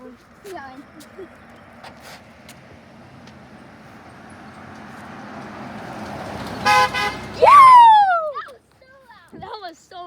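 Car horns honk in a neighborhood event cheering doctors, a couple of loud blasts near the end after a building traffic rumble, with excited voices talking around them.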